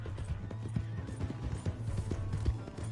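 A horse's hooves clip-clop at a steady, quick gait on the ground in Red Dead Redemption 2, a low and fairly quiet rhythm that runs throughout.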